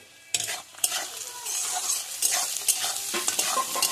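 Onions fry in a pan with a pinch of salt for a goat liver gravy, a loud steady sizzle broken by scraping stirs of a spoon against the pan, with no talking.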